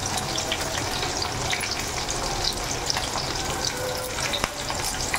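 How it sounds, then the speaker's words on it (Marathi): Chopped onion sizzling and frying in hot oil with garlic and chilli, a steady dense crackle with a few stirring clicks, close and continuous with no talking. "आपण जो चिरून ठेवलेला कांदा होता तो कांदा आपल्याला यामध्ये टाकायचा आहे"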